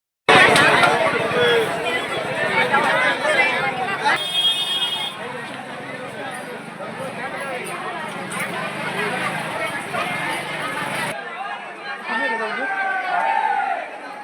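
A large crowd of pilgrims at Tuljapur temple, loud continuous babble of many voices close by with shouts, a brief high tone partway through, and the din easing slightly toward the end.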